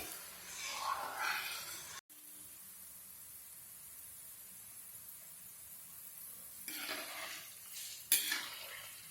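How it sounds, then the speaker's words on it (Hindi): Mixed namkeen is stirred and roasted in a pan, giving soft scraping and rustling strokes at the start and again near the end over a low steady hiss, faint and close. "इस तरह लगातार चलाते हुए भूनेंगे।"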